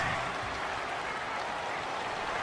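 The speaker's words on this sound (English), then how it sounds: "The crowd's not doing that O-line any favors." Dense, steady roar of a stadium crowd at an NFL football game between the Bengals and Colts, with home fans making noise after a false start; broad, continuous wash of cheering with no clear talk.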